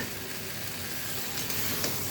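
Prawns and fish bones fry in a pan for a bony fish chochori, giving a steady, fairly loud hissing sizzle throughout with no speech.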